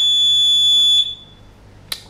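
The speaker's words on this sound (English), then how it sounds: "the timer makes a sound like this." A 4DCrossfit interval timer beeps loudly and shrilly at the end of its countdown, giving one sustained tone that cuts off, followed a moment later by a short chirp.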